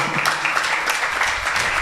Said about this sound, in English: Can we give Swamiji a round of applause, my dear ones?